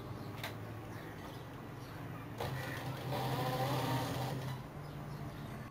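A sewing machine stitches a ruffle band for baby ruffle pants, a faint steady mechanical whir that grows a little louder midway before easing off.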